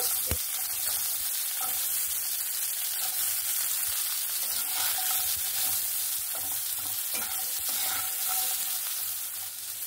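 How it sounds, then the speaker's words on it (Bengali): Drumstick (moringa) stems fry in a little oil in a wok, giving a continuous bright sizzle with occasional soft stirring clinks, heard close and alone. "কড়াইয়ের মধ্যে সামান্য একটু যে তেল আছে ওই তেলটার মধ্যে ডাঁটাগুলো দিয়েও"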